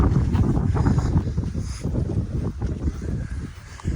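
Strong coastal wind on a sandy Nantucket beach trail roars and buffets against the microphone. The rumble is steady and low and carries on throughout, with gusting surges.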